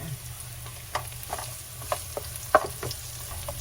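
Ginger and garlic fry in hot oil until browned, making a soft, continuous sizzle with scattered sharper pops and crackles, fairly quiet and close.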